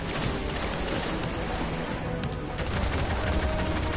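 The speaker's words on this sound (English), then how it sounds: "Come on, big machine gun!" Dense, continuous machine gun fire in the video game Destiny sounds loud and close, a sustained rattle of overlapping shots with explosive layers and no pause.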